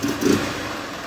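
A car engine converted from fuel injection to a carburetor, idling steadily at close range with a low even hum, a brief slight rise in the first fraction of a second and no talking.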